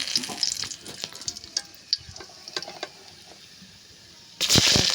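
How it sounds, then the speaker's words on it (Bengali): Bay leaf, cinnamon and cardamom dropped into hot oil give scattered crackles and pops, then a sudden louder burst of sizzling near the end. "তেজপাতা, দারচিনি, এলাচ দিয়ে দিচ্ছি।"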